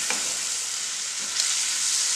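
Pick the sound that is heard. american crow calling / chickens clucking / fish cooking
fish cooking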